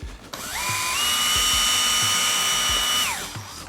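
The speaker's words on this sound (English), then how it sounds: "now just go and pre-drill those holes" A power drill pre-drilling holes for a roller blind mount whines up, holds a high steady pitch for a few seconds, then winds down, close and loud.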